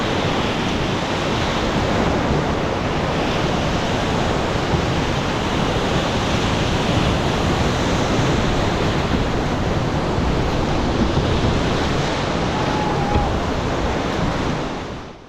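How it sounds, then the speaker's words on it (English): Fast-moving high water on the Selway River roars between rapids, a loud, dense, unbroken wash that stays constant throughout with no voices. "The river's moving really fast here,"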